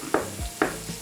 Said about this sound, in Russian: И таким же образом обжарим оставшееся мясо.